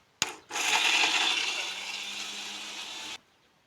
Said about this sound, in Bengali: এগুলি মিক্সির মধ্যে দিয়ে আমি ঘুরিয়ে নিচ্ছি মিক্সিটাকে।